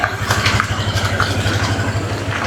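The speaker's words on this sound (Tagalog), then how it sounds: "Lakas ang motor ni Kuya." A loud motorcycle engine runs close by with a rough, pulsing low throb and small shifts in revving, alone without talk.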